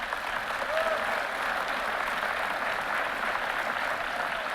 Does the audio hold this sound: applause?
yes